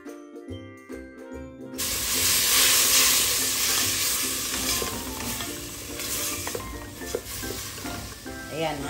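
Tomatoes drop into a hot pan with seashells and fry with a loud, steady sizzle, while a utensil scrapes and clinks as it stirs them, close by.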